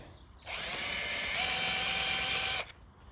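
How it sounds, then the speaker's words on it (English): An electric drill with a countersink bit whirs steadily for about two seconds as it deburrs metal on a Bobcat 909 backhoe, a high grinding whine starting and stopping abruptly. "So one is with the drill here and a countersink"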